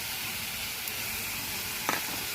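Garlic sizzles in hot oil in a frying pan while a rohu fish dish is cooked: a constant bright hiss runs throughout, broken near the end by a brief utensil clatter against the pan.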